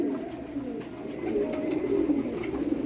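Pigeons at feeding time cooing softly and continuously, a low murmur of several birds close by with no talk.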